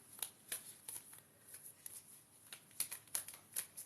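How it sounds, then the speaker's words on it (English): Tarot reading cards are shuffled quietly at close range, a series of soft riffling flutters and taps in an irregular rhythm, alone without talk. "So let's shuffle these cards for our Yana."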